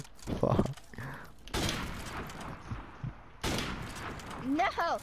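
Bursts of gunfire ring out in a free-for-all video game match, sharp loud volleys separated by pauses, with a player talking over parts of it.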